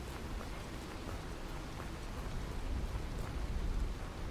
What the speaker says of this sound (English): Dude, that rain sounds so good, man.